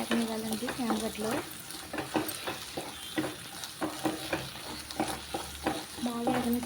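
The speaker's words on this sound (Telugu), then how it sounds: "బాగా ఆయిల్లో వేగనివ్వాలండి చామగడ్డలు." Taro root pieces frying in hot oil in a pan, being stirred while cooking for an egg pulusu curry; a steady close sizzle with repeated scraping stirs throughout, some faint talk underneath.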